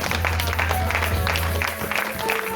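Church congregation clapping and cheering for Jesus, a dense steady burst of applause with crowd voices, under a low sustained tone, close and loud throughout.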